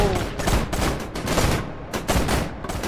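Rapid gunfire in the video game Slide N' Dash, delivered as repeated loud bursts of shots with short gaps between volleys; no talking.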